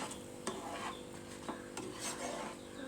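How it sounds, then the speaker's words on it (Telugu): Semolina kesari is stirred in a pan, soft repeated scraping and clinks of a spoon against the metal over a faint low sizzle, quiet and close. "అలా కలుపుతూ తిప్పుతూ ఉండాలి"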